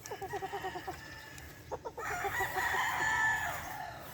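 A Boston Black gamefowl rooster on a game farm gives a short series of rhythmic clucks, then a loud, drawn-out crow near at hand, with no talking.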